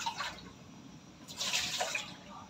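Water is tipped out of a cooking pot while fish is being cooked, making a short splashing pour that swells briefly and then trickles off, close and moderately quiet.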